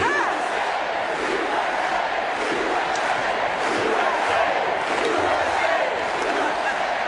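A large crowd at a political rally chants in unison, a loud, dense roar of massed voices with rhythmic swells of shouting, sustained throughout as if filling a big hall.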